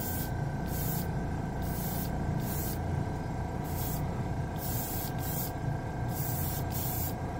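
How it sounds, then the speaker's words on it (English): Short bursts from an airbrush blow dust off a workpiece, sounding as a soft repeated hiss of compressed air in rhythmic puffs, each about half a second long, over a constant low background hum. "I'm blowing some dust off this piece. You know, it atomizes pretty good out of the airbrush."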